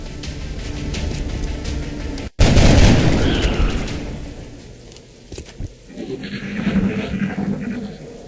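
A sudden loud burst of gunfire in the video game XCOM: Enemy Unknown rings out and then fades into quieter game ambience and effects, with no voices.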